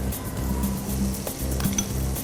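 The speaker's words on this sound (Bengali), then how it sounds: "অল্প পরিমাণ হাফ চামচ বাটার দিয়ে নিলাম" Half a spoon of butter sizzles softly in a hot pan on a lowered flame while making fish cake, a steady close hiss under light clinks of utensils.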